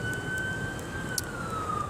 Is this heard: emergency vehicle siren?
yes